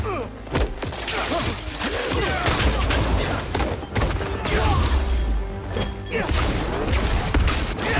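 Fireworks set off from a crate in the video game Marvel's Spider-Man 2 pop and crackle in irregular bursts of thumps and sharp cracks among busy game sounds.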